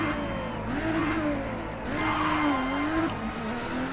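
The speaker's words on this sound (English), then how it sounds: "It's a pretty nice car, but it's slow on the gears, as you can hear." A video game Nissan Skyline GT-R engine hums and rises in pitch, dropping briefly as it shifts slowly through gears during a touge race, steady and fairly close with no talking.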